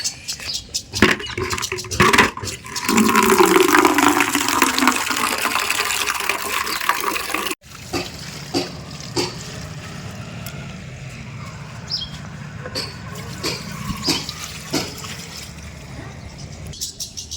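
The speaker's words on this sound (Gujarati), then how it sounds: "અહીંયા ઝાડવાના પાણી પાવા માટે આવા આવી છું" Potted plants on a rooftop are watered, first a strong gushing pour for several seconds, then a quieter trickle and splashing, with occasional clicks and a voice nearby.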